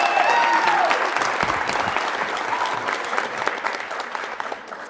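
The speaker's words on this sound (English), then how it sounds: "So can we all give a round of applause for our school leader?" An audience at an adult and family education graduation ceremony gives sustained, loud applause for the school leader, steady at first and then gradually thinning out.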